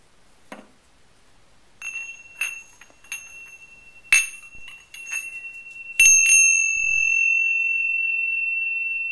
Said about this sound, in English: some chimes to ring